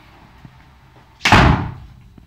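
A door to an air-conditioning closet in a model home's downstairs shuts with one loud, sharp thud that decays over about a second, standing alone against quiet room tone.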